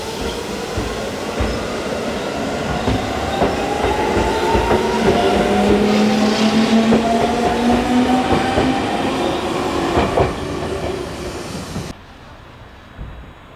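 The Ina-ji limited express train rolls into Tenryukyo station on the Iida Line. Loud, close rumble and wheel clatter carry rising squeals and whines as it brakes, then the noise drops away abruptly as it stops.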